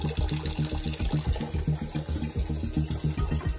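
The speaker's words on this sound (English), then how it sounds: "Keep it open until you see a steady flow of water with no bubbles." Water runs steadily from a small GUIVAL purging valve on a boiler, a close, continuous gushing flow with a bubbly, churning texture and no voices.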